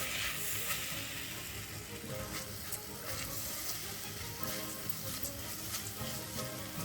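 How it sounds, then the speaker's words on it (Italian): Rice toasted with cocoa sizzles loudly in a pan as white wine is poured in to deglaze, a steady dense frying hiss with faint stirring scrapes throughout, close and without talk. "un po' di vino bianco per sfumare"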